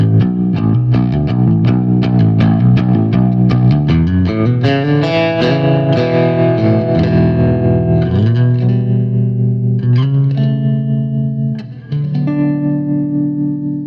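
Low, deep baritone guitar chords ring out with a wavering, pulsing tremolo and spacious reverb, played steadily and loud throughout.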